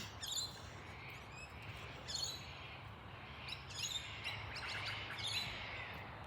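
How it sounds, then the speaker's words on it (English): Birds chirping outdoors: several short, bright calls in scattered bursts over a faint, steady low hum, fairly quiet and distant, with no voices. "Like hearing all these birds now"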